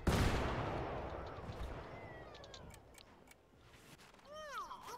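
A single gunshot in the video game Plants vs Zombies Garden Warfare 2, a loud burst at the start that decays, followed by scattered game sound effects and whooshing tones.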